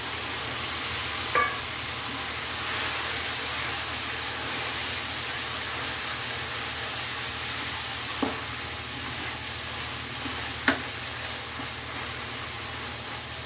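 Boiled shrimp stirred into a simmering, reduced banana-flower gravy in a pan, a steady soft sizzle with a few faint scraping knocks from the spoon, no voices.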